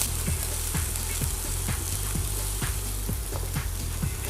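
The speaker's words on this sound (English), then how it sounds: "we're just browning the chicken" Chicken meatballs brown in a hot pan with a dense, steady sizzle close up, broken by a regular series of soft low thumps as they are moved and turned.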